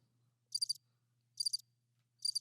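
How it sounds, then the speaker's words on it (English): Crickets chirp in three evenly spaced bursts of rapid pulses over a faint steady hum, with no talking. "Crickets."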